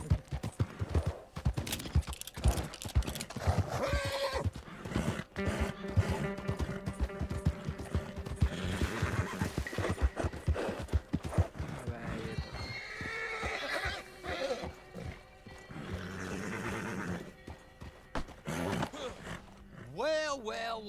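Horse hooves clip-clopping and a horse whinnying in the Red Dead Redemption 2 game world, set against a busy mix of effects and voices that talk over it, with repeated neighs and steady hoofbeats throughout.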